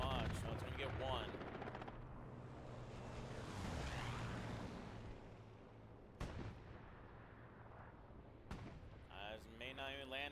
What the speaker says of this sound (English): Calling in a bombing run, calling in a strafing run.